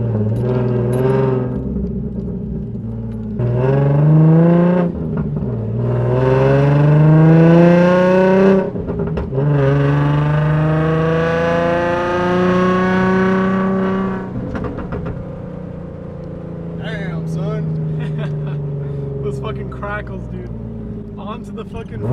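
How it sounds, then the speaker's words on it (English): A Nissan 350Z fitted with a Tomei exhaust and test pipes roars loudly up close, rising and falling through repeated revs and gear changes as it accelerates, with a brief calmer cruising drone near the end. "That way y'all can just enjoy the sound of this exhaust."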